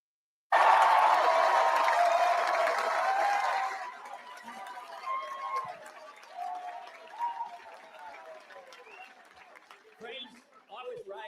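Crowd applauding at Albo's election victory speech, a loud dense burst of clapping with cheers that fades after a few seconds into scattered clapping and chatter.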